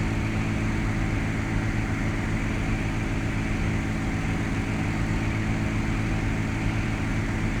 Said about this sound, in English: And there the plane goes turning.